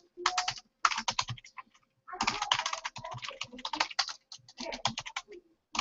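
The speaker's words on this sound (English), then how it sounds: "let's just type this in here" Rapid bursts of typing on a computer keyboard during a webinar software demo, clustered into several quick runs of clicking keystrokes separated by short pauses, close and clear with no talking.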